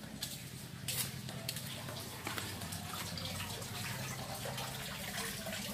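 Water is scooped and poured from a small decorative fish pond beside a house terrace, a steady close splashing and trickling that runs the whole time with broadband wash and a few brighter splashes.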